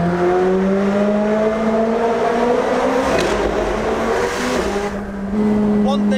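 Powerful car accelerating hard, engine note climbing steadily through rising revs heard from inside the cabin, loud and sustained, easing briefly near the end before pulling again.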